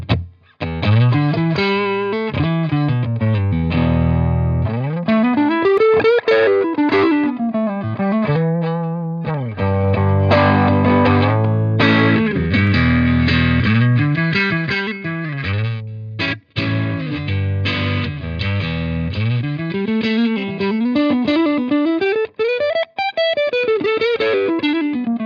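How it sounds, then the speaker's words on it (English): Electric guitar played through a Boss EQ-200 graphic equalizer pedal with an overdriven tone, a continuous run of distorted melodic phrases and bends lasting about twenty-five seconds, with no talk. "with an overdrive sound on here."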